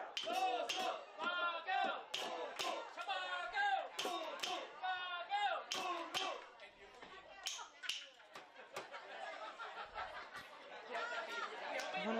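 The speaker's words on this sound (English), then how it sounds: "Big cheers from the crowd" A crowd at a Vanuatu v Thailand under-20 match in the PacificAus Four Nations Tournament cheers and chatters under steady nearby talk, with scattered claps and shouts rising and falling.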